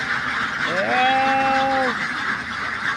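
A Belgian duck at a duck farm gives one drawn-out nasal call lasting about a second, clear and fairly close over a steady background murmur.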